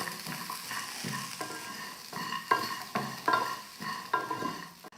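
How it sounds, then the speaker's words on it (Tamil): Cashews and coconut dry-roasting in an oil-free kadai, stirred with regular, close scraping strokes that rise and fall in a steady rhythm over a faint sizzle, no voices. "இப்போ இதெல்லாம் சேர்த்து நல்லா வறுத்துக்கலாம்."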